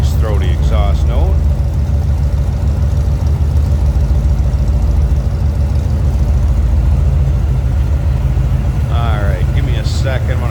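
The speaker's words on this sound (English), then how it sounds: "Nice throaty exhaust note." A 1967 Chevrolet Malibu 350 V8 idling with a throaty exhaust, a loud, steady deep rumble heard from behind the car for the whole stretch, with someone talking briefly at the start and end.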